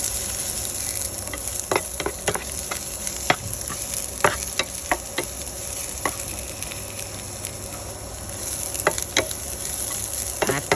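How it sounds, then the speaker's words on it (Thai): Garlic and chopped chili stir-fried in a pan while preparing a Thai holy-basil stir-fry of golden apple snails, giving a steady sizzling hiss with scattered sharp spatula scrapes and clinks close by, with no talking. "เอาใส่กระเทียมใส่พริกที่เขาหั่น ไว้ ลงไปพัด ให้มันหอมนะจ๊ะ"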